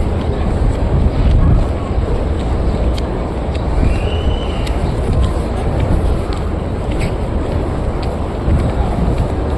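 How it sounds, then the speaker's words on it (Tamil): Steady wind blows outdoors in Medina in a dense, continuous rush that buffets the microphone, loud and unbroken throughout with no clear gaps. "சூழ்நிலை காத்துடிக்குது"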